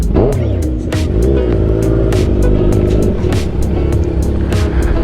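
A Kawasaki Ninja 1000 motorcycle engine revs repeatedly up close, rising and falling in pitch with sharp bursts and a steady throaty rumble underneath.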